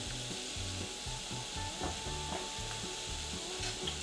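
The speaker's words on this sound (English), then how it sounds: "we're going to move it all around the whole time, breaking it up into little pieces" Sausage meat broken into tiny bits and pushed around a frying pan with a spatula, giving a steady scraping, rubbing sizzle that runs continuously at close range with a few sharper scuffs.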